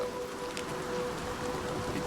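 Steady rain hiss in Oblivion Remastered, a soft continuous wash of falling water with a faint low hum underneath, even and unbroken throughout, no voices.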